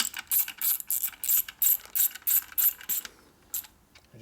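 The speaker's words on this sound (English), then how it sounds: "we need a 1/2-inch socket" A ratchet with a 1/2-inch socket tightens bolts on a 1977 Harley-Davidson XLCR 1000cc Ironhead Sportster engine during a rebuild: about nine quick, crisp clicking bursts in even rhythm, then a pause and a couple of softer clicks.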